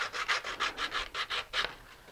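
Sandpaper rubbing the edges of a high-power rocket part, heard up close as about nine rhythmic scraping strokes in a steady back-and-forth pattern.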